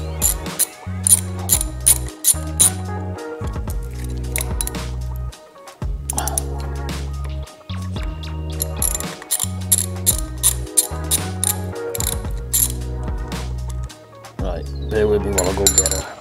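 Bolts with washers being undone on a Harley-Davidson Sportster Evo, heard as rapid ratcheting clicks in repeated bursts with metallic clinks, close and loud, while someone talks throughout.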